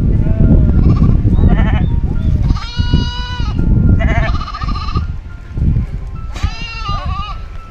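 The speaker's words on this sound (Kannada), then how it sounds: "ನೀರಿಗಾಗಿ ಕುರಿ ಮೇಕೆಗಳು ಅಲೆದಾಡ್ತಿವೆ." Sheep and goats in drought-hit Tottli village, Karnataka, let out several loud, wavering bleats close by, one after another and sometimes overlapping, over a rumbling outdoor background while the animals wander in search of water.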